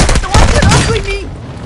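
Enemy gunfire in a Call of Duty match: a loud, close burst of rapid shots in the first second, followed by softer tonal game effects and a low rumble.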